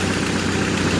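Inline-six engine of a 1995 Jeep Wrangler YJ idling, a close, steady low rumble with no talk over it.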